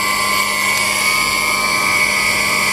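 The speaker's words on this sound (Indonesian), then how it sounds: "sekarang kita akan nyalakan pompanya ya" A water pump switched on and running during priming, a loud steady whine with a constant high mechanical hum and sustained tonal drone, unbroken and close to the microphone.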